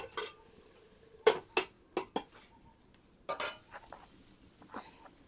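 Metal clinks and knocks of a lid going onto a cooking pot of Bangladeshi vegetable curry, a few sharp separate clatters in a quiet kitchen.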